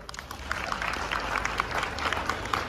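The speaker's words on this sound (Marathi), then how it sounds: "टाळ्या का नाही वाजवते?" Audience at a Madhuri Sakhi Manch stage event applauds with a dense patter of many hands clapping at once, moderately loud and continuous, with scattered sharper claps.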